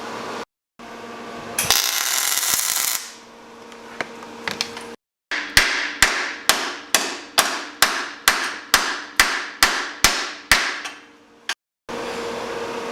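Metal hammering on Jeep Wrangler YJ rear frame rust repair parts: about twelve sharp, evenly spaced ringing blows, loud and close, after a stretch of hissing heat or grinding noise, with no talk.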